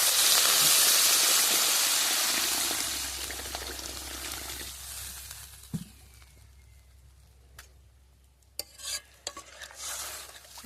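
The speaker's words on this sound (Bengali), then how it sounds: "এবার আমি এর মধ্যে জল দিয়ে দিচ্ছি।" Cold water poured into a pan of mango-and-snakehead fish curry, a loud hissing sizzle and splash at first that steadily fades into quieter bubbling, with a few sharp clinks of a utensil against the pan near the end.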